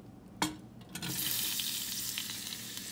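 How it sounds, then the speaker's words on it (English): Chopped onions hit a spoonful of warm oil and break into a steady, close sizzle that starts with a sharp burst and holds loud and even to the end, with no talking. "I'll saute these"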